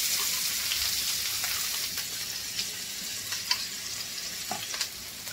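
Mustard seeds, onion and green chili frying in hot oil for a potato and pea bhaji: a constant close sizzle with occasional light stirring clicks and small pops.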